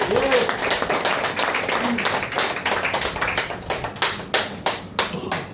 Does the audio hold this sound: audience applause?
yes